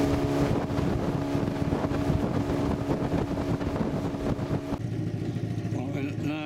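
A motorboat tearing across Jozini Dam lake in South Africa, a loud continuous engine roar buffeted by heavy wind noise, with a voice talking over it.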